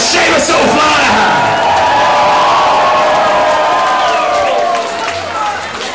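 A loud live crowd at a Dreadnoughts gig cheers, whoops and claps in a sustained roar that fades slightly near the end, with a voice carrying over it.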